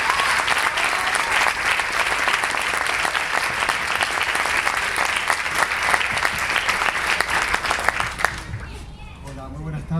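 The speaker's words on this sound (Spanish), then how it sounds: "Lo recibimos con un fuerte aplauso." A large audience applauds to welcome a speaker at a Les Luthiers anniversary event, a dense sustained clapping that dies away near the end before a voice begins to talk.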